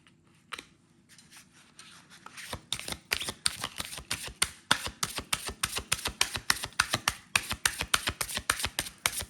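A deck of cards is shuffled repeatedly up close, giving a quick run of crisp riffling snaps that build into a steady rhythmic flutter, alone and fairly quiet.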